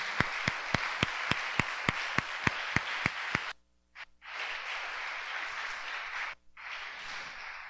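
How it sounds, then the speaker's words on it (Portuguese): Church congregation clapping during a sermon, first in a slow, even rhythmic beat of about a dozen sharp claps, then breaking into looser, scattered applause with brief pauses. "Você pode aplaudir o Senhor Jesus por isso?"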